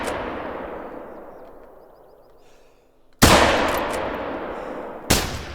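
Hunting rifle shots in theHunter: Call of the Wild, a loud close crack with a long rolling echo fading out, followed by a second sharp blast and another shot cut off at the end.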